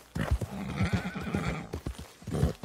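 A horse in the video game Red Dead Online whinnies loudly with a rising and falling neigh, accompanied by rapid hoof clip-clops, brief and close.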